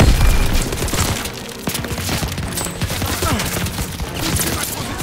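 Grenade blast amid a World War II firefight in Call of Duty: WWII, a loud booming burst at the start followed by dense crackling gunfire and further thuds throughout, with faint shouting voices in the mix.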